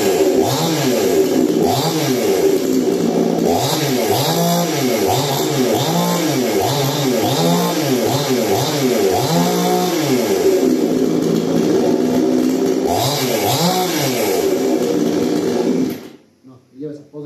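A Procraft GS-52P gasoline chainsaw engine runs loud and close, revving up and down in repeated bursts for about sixteen seconds before cutting off abruptly, with a voice talking over it.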